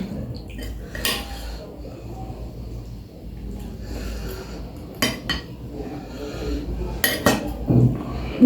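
A spoon clinks and scrapes against a plate of rice with chicken and dal, several sharp metallic knocks scattered over a quiet room with faint background sounds.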